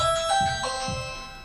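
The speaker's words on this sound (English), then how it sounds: "Right, that's the doorbell, and I've got to get that." A two-tone doorbell chime rings a few times, clear and moderately loud, in a workshop during a Bridgeport mill install.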